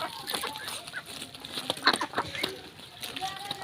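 Ducks gobble down snails and mussels gathered from the fields. Their clucking, quacking calls and sharp clicking pecks come in quick irregular bursts over a busy farmyard background.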